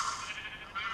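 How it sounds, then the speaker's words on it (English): A sheep in Minecraft on the Mineplex server gives a brief, clear bleat, a single wavering cry with no talk over it. "Yes, I got a sheep."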